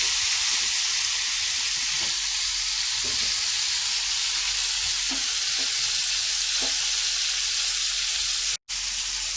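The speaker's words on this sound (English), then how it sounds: "So in the same pan, place your cherry tomatoes on the vine and let them cook" Cherry tomatoes on the vine sizzle steadily in a hot pan used earlier for beef steak. The frying hiss is loud and continuous, with a few soft stirring bumps and a brief cutout near the end.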